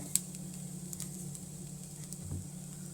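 Jaggery being sautéed in a pan for steamed modak filling, a faint soft sizzle with a few light ticks and scrapes under a low steady hum.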